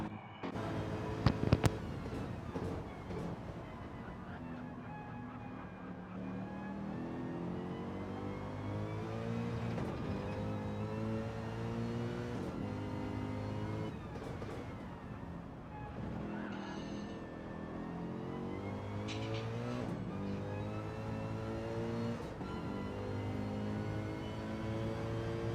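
A race car engine in a racing video game drones steadily through an onboard lap at Daytona, its pitch climbing and dropping through repeated gear shifts, loud and continuous with no talking.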